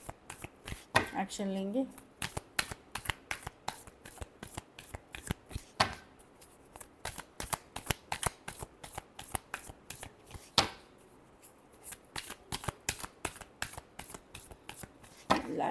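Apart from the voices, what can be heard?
shuffling tarot cards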